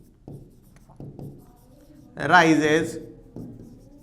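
Chalk or marker strokes writing a sentence on a classroom board, a few short scratchy taps spaced apart, with someone speaking Hindi briefly in the middle.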